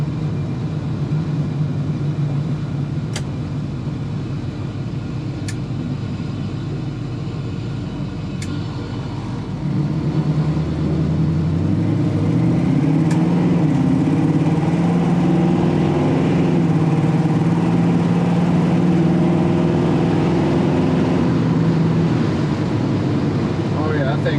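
A 1966 Chevrolet Nova with a 383 V8 revs up under acceleration on a test drive, a loud sustained engine drone that climbs in pitch and shifts gears partway through, with occasional talk and clicks inside the car.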